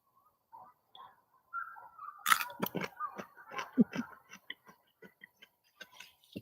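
Crunchy food fresh from a home garden is bitten and chewed up close, producing sharp irregular crunches and clicks against a quiet background.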